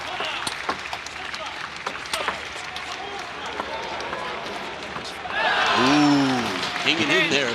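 Crowd noise at a women's team table tennis world championship quarter-final in Kuala Lumpur, Singapore versus North Korea, a steady murmur that surges into loud cheering and shouting near the end, with a commentator's voice over it.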